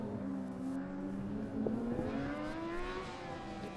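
Formula Student race car on an endurance lap at FSG 2012, its engine note rising and sweeping past at a distance, a steady whine with a doppler-like pitch shift over continuous track ambience.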